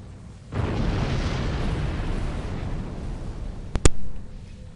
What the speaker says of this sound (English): That was a glorious explosion, probably from the Thalaron weapons carried aboard the ship